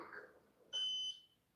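Single electronic alarm beep, a shrill steady tone lasting about half a second, fairly loud and alone after brief faint talk.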